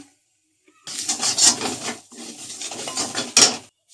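A spatula scrapes and rubs steadily through tomato and ground spice paste in a pan, loud close rasping strokes in two bursts separated by brief pauses.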